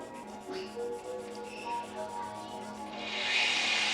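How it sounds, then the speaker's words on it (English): Fine 1500-grit sandpaper rubbing over rock-chip edges in the paint of a BMW M5, a soft steady scratchy rasp that swells into a brighter, louder hiss near the end, close up with no talking. "we're going to go through here with our 1500 grit and just clean up the edges of these rock chips"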